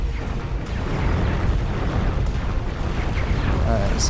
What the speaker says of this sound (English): Taking accelerated plasma bolts to the face.